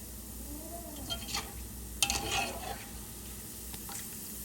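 Gulab jamun being lifted from hot frying oil, with soft scraping and metal clinks of a utensil against the pan over a low sizzle, a brief louder clank near the middle.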